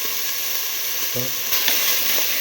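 Split mung bean tomato stew sautés in a pan with a steady, close hiss of sizzling and a brief stir partway through, no talking.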